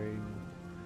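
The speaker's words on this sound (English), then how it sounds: "Lying down in a tent, relaxing, hearing the rain" Steady patter of rain on a tent in the video game Everybody's Gone To The Rapture, a close, continuous soft drumming with no talk.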